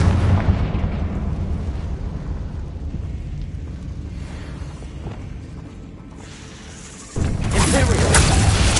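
A Confringo blast spell in Hogwarts Legacy booms loud and dense, a continuous rumbling explosive roar that dips briefly before a second sharp, brighter burst near the end.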